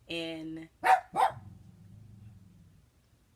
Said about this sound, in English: You may hear her grumbling, growling, barking under her breath